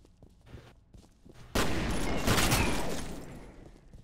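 Laser weapon fire in a monster video game bursts in loud and sustained partway through, a dense crackling blast that holds for a couple of seconds before tapering, following a quieter stretch with faint sounds.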